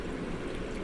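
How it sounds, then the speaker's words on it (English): Water released from a dispenser in the video game Minecraft makes a short, steady rushing wash. "But what it does greatly is that it dispenses water."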